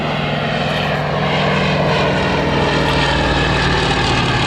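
Fairey Swordfish biplane flying overhead at the Southport Air Show, its propeller engine a loud, steady drone that swells slightly and holds throughout.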